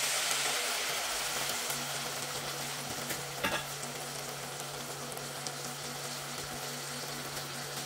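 Water poured into fried spices in a cooking pot, a loud, steady, close sizzle and bubbling hiss that runs throughout with a low hum underneath and one brief clatter midway.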